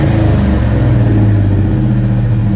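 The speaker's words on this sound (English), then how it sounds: "Go ahead and rev it up a little bit." A 1990 Ford Mustang 5.0 V8 that is burning a little oil is revved close by, giving a loud, throbbing low rumble that holds steady through a short burst.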